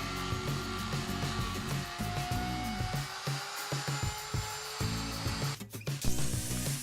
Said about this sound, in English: The mounting bolts for the motor were too long, so we chopped them off with an angle grinder.